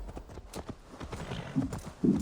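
Rhythmic clip-clop of horse hooves trotting at a steady pace in Assassin's Creed Valhalla, fairly close, with a low snort near the end.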